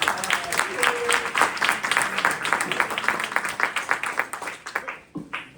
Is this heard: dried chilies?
no